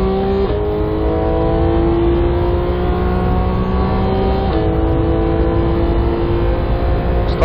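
Porsche 911 GT3 engine in a racing game on the Red Bull Ring, a loud sustained drone that climbs in pitch and drops sharply at each gear shift.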